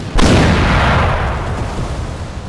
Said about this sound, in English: Here come the cannon shots.